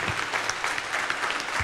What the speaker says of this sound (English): they deserve really our loudest applause this evening for animating us today